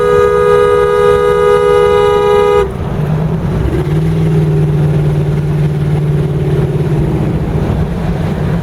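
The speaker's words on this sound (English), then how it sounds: "That exhaust leak's terrible." A cheap used Ford Explorer with a bad exhaust leak, a loud, steady engine drone that follows a brief tonal blare at the start.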